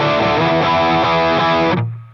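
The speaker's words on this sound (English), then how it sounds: "Add the clon, sounds like this." Electric guitar chord through a Line 6 HX Stomp with a Klon-style overdrive and extra gain, a bright, loud mid-crunch strum that rings out and is cut off sharply near the end, with no talking.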